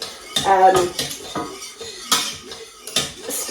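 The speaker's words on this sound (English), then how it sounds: "I'd stir it quite a bit because it can stick to the bottom" Metal utensil scraping and clinking against a pot of cheese sauce made with milk, brought nearly to the boil, stirred in several irregular close bursts of clatter.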